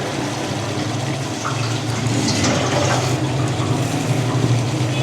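Onions hiss and sizzle as they go into a pot of qorma, a loud, dense, steady frying noise that holds throughout without pause or talk.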